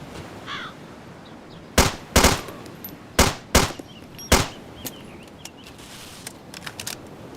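Gunfire in the Arma 2 DayZ mod: a handful of sharp, loud shots at irregular intervals, some paired close together, standing out over quiet ambient game background with faint bird calls.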